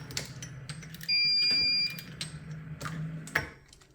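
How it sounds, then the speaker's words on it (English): A Mark 7 reloading press audible powder check gives a short, steady electronic beep-alarm for under a second, signaling a double charge, amid light mechanical clicks and clatter of the automated press nearby. "that's a properly set up Mark 7 audible powder check"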